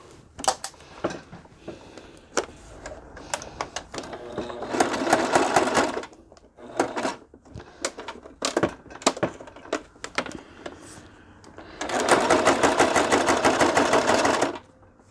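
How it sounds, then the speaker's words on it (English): Sewing machine stitching through cardstock layered with paper on a stamped card, two sustained bursts of steady rapid stitching separated by quieter clicks and handling noises, close and fairly loud. "Okay, I'm going to sew."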